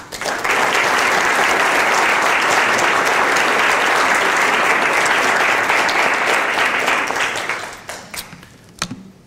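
An audience at the 2017 Donald S. Russell Lecture breaks into loud, sustained applause welcoming Justice Kittredge to the podium. The clapping fills most of the stretch, then thins out and trails off into a few scattered claps.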